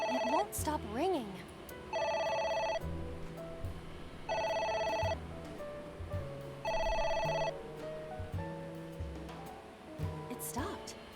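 A telephone rings in the video game AI: The Somnium Files, three long electronic ring bursts repeating at steady intervals, with short synthesized game sounds between them and people talking quietly around the rings.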